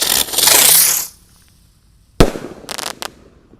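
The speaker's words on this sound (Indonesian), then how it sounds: "Selanjutnya ini ada mercon ski cruiser Roman Candle ya yang warna biru" A blue Sky Cruiser Roman candle firework, set off at night, whooshes and hisses for about a second, then after a pause a sharp bang followed by crackling pops.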